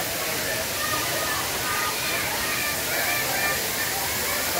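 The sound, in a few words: waterfall in the rain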